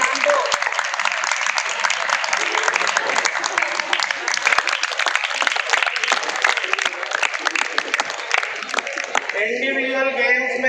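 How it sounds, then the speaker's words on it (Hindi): A crowd claps loudly and continuously after a performance at a college's annual sports and cultural festival in Firozabad. The dense applause lasts about nine seconds, then thins out as a voice comes in at the end. "जितनी धमाकेदार परफॉर्मेंस उतनी धमाकेदार तालियां भी होनी चाहिए"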